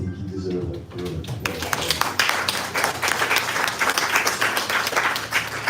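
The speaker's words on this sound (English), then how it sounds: "I think he deserves a applause" A press conference crowd breaks into applause for Mr. Martin, a dense burst of clapping that starts right after a brief stretch of speech and carries on steadily, moderately close.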